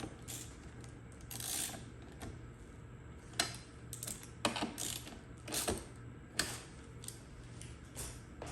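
Quiet clicking of a ratchet tightening the bolts on a reupholstered front seat of a 2018 Toyota RAV4, in short, irregular bursts of mechanical ticks over a low background hum.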